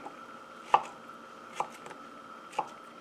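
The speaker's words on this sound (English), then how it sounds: "And just do a rough chop going the other direction." A knife rough-chops arugula or mango on a cutting board for a salad: three distinct, fairly quiet thuds spaced about a second apart, with a few softer taps in between, and no talk.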